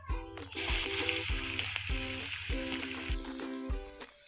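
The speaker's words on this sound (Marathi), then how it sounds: "तेल चांगलं तापलंय। आता आपण त्यात कांदा टाकूया।" Onion frying in hot oil in a kadhai, with a steady close sizzle and hiss and a series of regular low thumps or knocks beneath it, and no talking.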